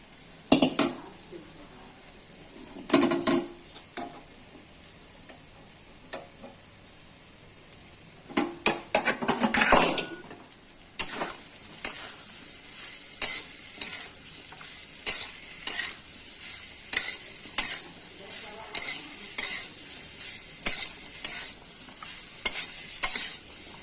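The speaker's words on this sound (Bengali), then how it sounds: "সিদ্ধ করে রাখা পেঁপেগুলো মশলার মধ্যে ছেড়ে দিলাম।" Boiled papaya dropped into spices frying in a pan for a soybean and papaya curry, with a steady hiss and sizzle under bursts of stirring, then a long run of regular scraping strokes of a spoon against the pan.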